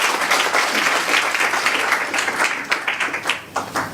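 Audience applause at a live stage event, a dense sustained wash of many hands clapping that thins into scattered claps toward the end.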